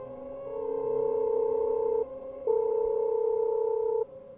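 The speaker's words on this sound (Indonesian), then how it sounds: "Terdengar suara dering telepon yang kemudian diangkat dari seberang." A telephone ringing as a sound effect in a horror story: a steady electronic tone sounds for about two seconds, breaks briefly, then resumes for another two seconds, clear and alone.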